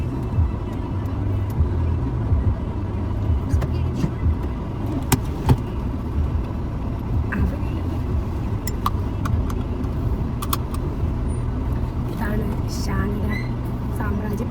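A car drives along a road on a hot day, its steady engine and road rumble continuing throughout with occasional louder passing noises and some voices in the background.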